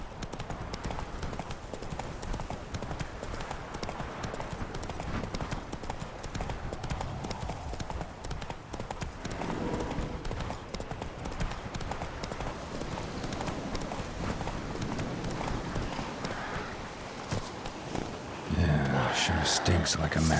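Roach the horse galloping in The Witcher 3, rapid rhythmic hoof clip-clops running steadily throughout, with a brief burst of other game sound near the end.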